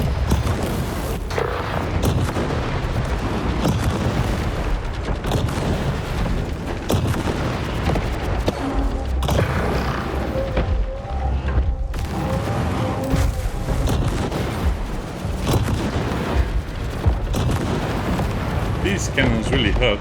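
Cannon fire slamming into targets in the mech shooter War Robots: Frontiers, a dense barrage of heavy booms and blasts that runs the whole time, with a voice speaking over it.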